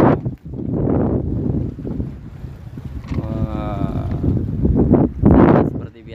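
Strong wind at sea on a small fishing boat off the north coast of Cirebon, a steady broadband roar of gusts and microphone buffeting, loud and continuous, with a voice talking over it in places.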